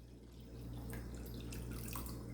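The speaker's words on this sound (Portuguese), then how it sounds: "Aqui nessa vasilha eu vou colocar 1 litro de água em temperatura ambiente." A litre of room-temperature water pours into a kitchen bowl, a continuous splashing rush that rises at about half a second and carries on steadily over a low background hum.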